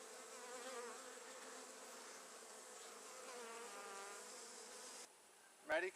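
Honey bees buzzing around an open beehive during an inspection, a soft continuous swarm drone with individual wings rising and falling nearby, ending in a brief louder sound at the close.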